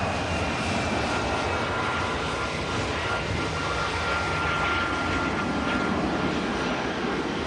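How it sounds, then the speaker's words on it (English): Virgin A330 airliner departing Manchester Airport, a loud sustained jet engine roar with a steady broadband rumble and faint whine, continuous throughout with no talk. "Virgin A330 heading off to Bridgetown, Barbados"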